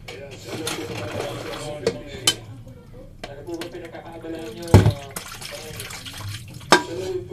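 Dishes, including chopsticks, are washed under running tap water, a continuous splashing flow with occasional clatters and knocks, while a voice talks over it.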